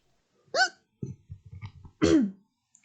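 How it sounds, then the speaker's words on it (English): A sharp vocal hiccup sounds close and clear, followed by a soft run of low breathy noises and a second, louder hiccup-like gulp against near silence. "Hiccup already."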